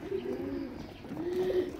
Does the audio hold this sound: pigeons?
yes